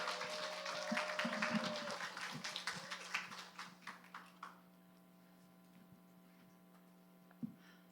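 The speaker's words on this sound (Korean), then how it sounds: "큰 박수로 여러분 격려해 주시면 감사하겠습니다." A church youth congregation claps in welcome as a young woman comes forward to share her testimony, the applause dense at first and then thinning into scattered claps over a steady low hum, fading out toward the end.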